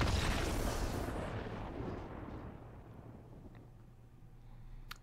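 A big explosion effect in the digital card game Magic: The Gathering Arena, a loud boom with a rumbling tail that fades over several seconds into a low hum, with no talk.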